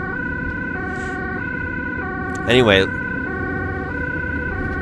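A Dutch ambulance siren wails through heavy rush-hour traffic, its two-tone pattern alternating steadily and loudly from inside the moving vehicle, while someone briefly speaks partway through.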